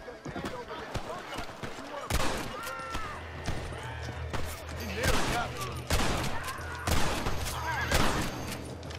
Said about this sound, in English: I hear all kind of gunfire.